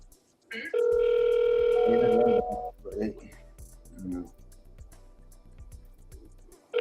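A telephone call rings before being forwarded to voicemail: a loud, steady electronic ring tone lasts about two seconds, then gives way to a voice speaking over a quieter background.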